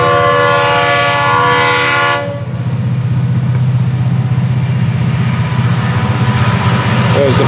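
An FEC 920 freight train sounds a loud, chord-like horn for about two seconds, then rolls past close by with a heavy, steady rumble of wheels and railcars that continues to the end.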